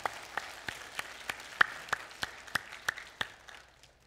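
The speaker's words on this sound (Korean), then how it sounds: "영광의 박수부터 드립시다." Sparse, slow clapping from a small congregation during a Sunday church worship service, roughly a dozen distinct, evenly spaced claps that fade out over a few seconds.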